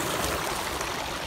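Water rushes steadily in a creek, a constant broadband wash close by with no voices.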